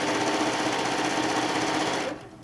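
A sewing machine runs fast and continuously while stitching a fabric tote bag panel, a close, loud, even mechanical whir that stops abruptly near the end.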